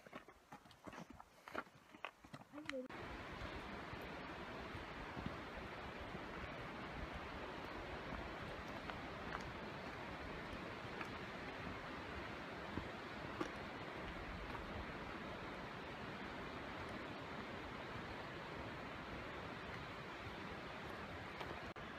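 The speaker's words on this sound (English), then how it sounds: "you can hear it down there, there's a waterfalls where the water's rushing really fast" A fast-rushing waterfall below a forest trail at Lena Lake produces a steady, broad roar of churning water that fills the scene after a few opening footsteps and rustles, distant yet constant, with no talking.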